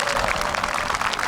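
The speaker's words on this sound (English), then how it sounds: "A deserving golf clap." Applause from a golf crowd honouring the champion at the Amateur Championship final at Ballyliffin: a steady, dense wash of clapping that holds evenly throughout the short stretch, without breaks.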